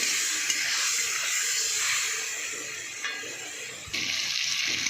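Water poured into a cooking pan of frying masala with chilli powder, a steady broad hiss and sizzle that carries through the whole stretch, with a sharper burst near the end.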